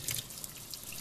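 Cold tap water running into a sink to rinse foraged dandelion greens, a steady close splashing trickle with drips, no talk.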